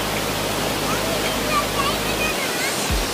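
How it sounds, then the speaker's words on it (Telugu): Ranajileda waterfall in Araku Valley, a steady close roar of falling water filling the whole stretch, with faint voices barely audible beneath the rush. "నీకు ఇది చిన్న వాటర్ ఫాల్స్ డాడీ"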